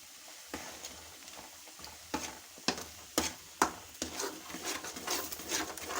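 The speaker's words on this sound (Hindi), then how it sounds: "इसके अंदर कोको पाउडर डालेंगे और इसे हम मिक्स कर देंगे।" Cocoa powder is stirred into habshi halwa in a pan, with close scraping strokes and a few sharper knocks of the spoon against the pan over a soft sizzle and no talking.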